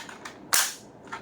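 A Zuru X-Shot Hawkeye Red Edition barrel-break toy shotgun fires once with a sharp, close pop, framed by faint handling clicks.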